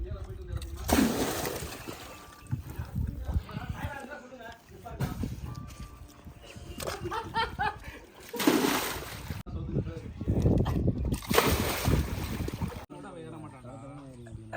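Water poured from a bucket into a village well splashes and sloshes in several bursts, with people talking throughout.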